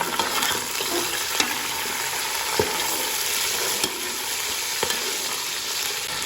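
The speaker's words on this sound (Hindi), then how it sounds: "चिकन को है जो हम अच्छी तरह से इसमें भूनेंगे।" Continuous loud sizzling of chicken frying in a hot pan, with occasional scrapes and clacks of stirring, no voices.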